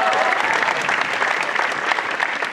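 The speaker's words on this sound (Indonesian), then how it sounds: "Tepuk tangannya mana?" A crowd of high school students claps in response to a host's call, loud and continuous applause throughout with slightly uneven bursts and no clear voices on top.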